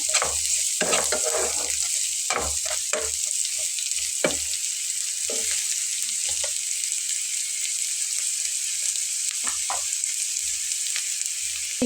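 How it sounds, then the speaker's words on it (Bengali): Chopped onion frying with spices in a pan, kept pale rather than browned, gives a constant close sizzle broken by repeated scraping strokes of a stirring spoon. "মশলাটার সঙ্গে 5 মিনিটের মতো করে একটু ভেজে নেব, যাতে করে পেঁয়াজের গায়ের যে একটা গন্ধ সেটা শুধুমাত্র চলে যায়।"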